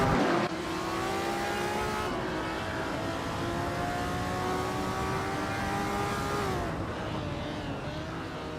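A 1963 Ferrari 250 LM racing engine drones steadily in a racing video game, a loud sustained tone with a slight pitch shift toward the end, alone without talk.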